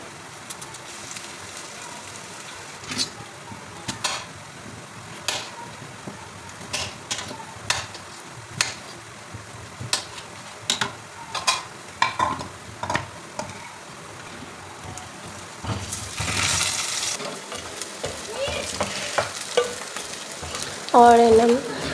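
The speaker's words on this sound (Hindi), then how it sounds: "यहाँ पे ना मेरी जो प्याज है ना, मैं थोड़ी ज़्यादा ब्राउन करती हूँ।" Onions frying for chicken pulao, browned a little extra: a steady sizzle with repeated scraping stirs of a spoon in the pan and a louder burst of hissing near the end, with no talk.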